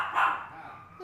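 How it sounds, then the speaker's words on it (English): A dog gives a single short bark, fairly soft and slightly distant, followed by a brief faint sound. "I love Finn's bark"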